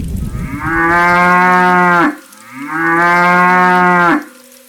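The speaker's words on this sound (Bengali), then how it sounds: "দুইটা গরু ভয় পেয়ে জোরে জোরে ডাকতে থাকে" Two cartoon cows bellow loudly in fear during a thunderstorm, giving two long, sustained moos in a row, each about one and a half seconds, with a brief gap between them and no talking.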